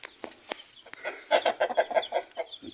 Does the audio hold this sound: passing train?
no